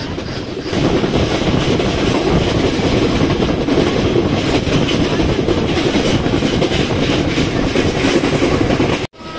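A train running between Rajshahi and Santahar, heard from on board as a loud, steady rumble and rattle of carriages on the track, continuous throughout with a brief drop at the very end.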